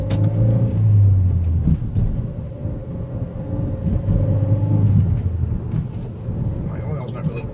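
An ST car pulls hard on a test loop road, its engine note climbing and rumbling loudly through gear changes from inside the cabin, while people talk over it.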